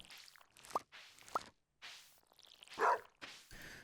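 A dog in a video game gives a few short, separate barks spaced apart, fairly close and clear, with quiet gaps between them.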